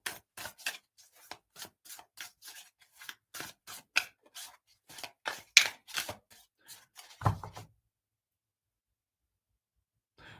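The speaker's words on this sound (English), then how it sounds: "So as I'm shuffling" A deck of tarot cards riffled and shuffled up close in a quiet room, a run of quick crisp flicking bursts that stops abruptly, followed by a soft thump and silence.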